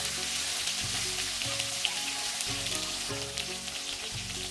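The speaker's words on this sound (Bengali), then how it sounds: "মাছটাকে আমি একটু উল্টিয়ে পাল্টিয়ে কড়াকড়িভাবে ভেজে নেব।" Hilsa fish frying in hot oil in a pan, a steady close crackling sizzle with fine popping that runs without a break, with no voices.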